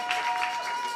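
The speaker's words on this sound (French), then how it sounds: "On acclame très fort pour le Seigneur" A church congregation claps loudly for the Lord during a prayer service, a dense wash of applause over about a second with no voices standing out.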